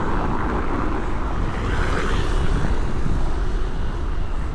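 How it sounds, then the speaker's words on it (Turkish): Cold wind roars steadily against the rider on a ride around Marmaris, a loud, unbroken buffeting rush with no voices. "Rüzgar soğuk soğuk okuyor."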